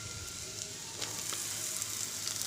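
Steady, bright sizzling of rice frying in a pan with black pepper and spices, a continuous close crackle with faint stirring scrapes and no talk.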